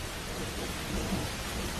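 Heavy wet-season rain pours down in a steady, dense hiss while deep thunder rumbles low underneath, a continuous stormy wash with no voices.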